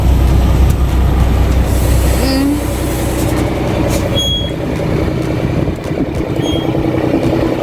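A truck engine idling in neutral, a loud, close, steady low rumble with rattling mechanical texture and occasional faint squeaks, continuing throughout with no voices.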